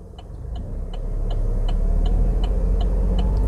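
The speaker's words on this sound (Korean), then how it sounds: "이렇게 엔진 소리 들리죠? 이게 RPM 2000이에요." A truck's engine revved to 2000 RPM as the accelerator is pressed during a road-driving lesson. A close, loud, steady low rumble swells over the first second and then holds level, with a light regular ticking on top.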